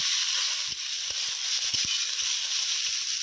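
Ginger and cumin paste fries in a pan, a steady bright sizzle and hiss with light, intermittent taps of stirring underneath.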